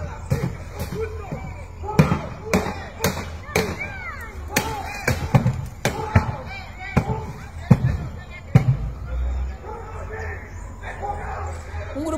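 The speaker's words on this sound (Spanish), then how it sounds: "Eso que parecen tiros son piñas al capote de la camioneta Toro." Several people punch the hood of a Fiat Toro pickup truck, producing sharp, loud bangs like gunshots, about a dozen spread irregularly, with a dog barking and voices shouting in the background.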